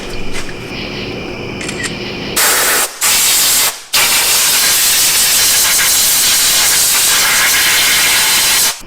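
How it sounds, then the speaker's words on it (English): A WD-40 spray can hisses loudly onto the spark plug wires of an Edsel engine left abandoned for 56 years, with short bursts and clicks first, then a long, sustained close-up spray. "So I'm going to start by spraying these spark plug wires down with WD-40"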